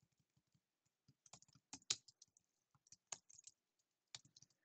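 Computer keyboard typing while entering values into the Desmos graphing calculator, with quiet irregular key clicks in short bursts and pauses, close and faint, with no talking.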